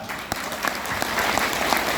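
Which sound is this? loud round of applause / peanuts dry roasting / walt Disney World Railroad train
loud round of applause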